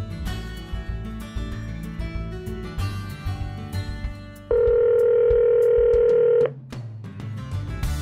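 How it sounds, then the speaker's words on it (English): An Android Auto car system places a phone call, with a steady dial tone ringing loud and alone for about two seconds between stretches of music and interface sounds. "Okay, calling mom at home."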